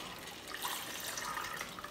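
Water runs steadily from a tap in a household in Kasoa near Accra, a constant soft hiss and splash with slight surges, close by and alone.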